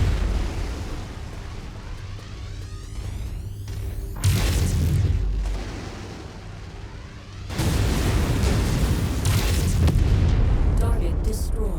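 A Javelin missile strikes and destroys its target in a war game, heard as two loud roaring blasts, the second lasting longer, each followed by a rumbling decay with a continuous low drone underneath.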